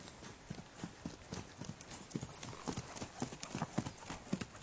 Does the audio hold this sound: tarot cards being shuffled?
no